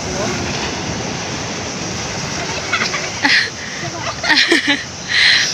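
Ocean waves wash and break on a shore in a steady broadband roar, with several louder splashing surges near the end and voices faintly present in the background.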